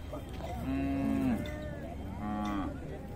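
Cattle at the Siddaganga cattle fair moo twice, a long low call followed by a shorter one, fairly close against a faint background murmur of the fairground.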